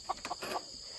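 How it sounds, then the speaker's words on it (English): A few short clucks from a flock of birds perched up high, three or four quick calls in the first half second, then a faint steady background hiss with no talking. "we got a bunch of birds all on top"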